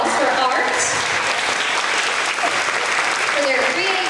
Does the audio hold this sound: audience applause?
yes